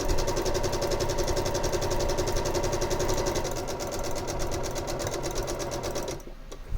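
A sewing machine stitches a quilt block in a steady, close, continuous mechanical whir with fast rhythmic needle clatter, running for about six seconds before stopping abruptly.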